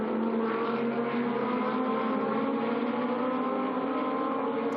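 Audi GT2 race cars battling for second place in a Fanatec GT2 European Series race, engines howling loud and steady at high revs with layered tones as the cars run close together.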